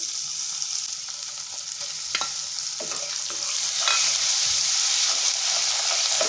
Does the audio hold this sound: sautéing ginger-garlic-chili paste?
yes